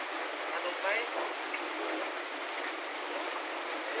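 Rain falling steadily outdoors while a child plays in the rainwater, a constant hiss of rain with light splashes, and a voice speaks faintly over it.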